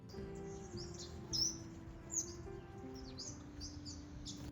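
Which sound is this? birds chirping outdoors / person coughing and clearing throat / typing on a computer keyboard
birds chirping outdoors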